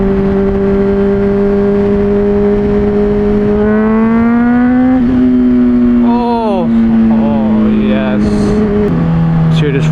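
Honda CBR600RR sportbike fitted with an MGP Growler exhaust idles loudly up close, then revs repeatedly in sharp rising and falling bursts before dropping back to a rumbling idle.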